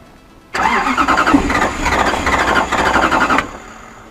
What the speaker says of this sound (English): I'm just going to bounce this across to run the starter. Injectors are disabled, so it shouldn't start.